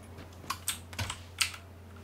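The C key on a computer keyboard is pressed during a PUBG match, giving a few quick, light clicks of keystrokes close by, spaced irregularly over a quiet background hum.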